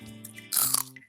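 Someone bites into an ants on a log snack, likely celery with peanut butter and raisins or chocolate chips, producing a single close, wet crunch followed by brief chewing.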